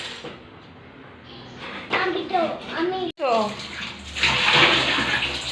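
Water splashes and pours as a small child fills a bottle, with broadband spraying noise under an adult's voice and brief child vocal sounds, louder splashing toward the end.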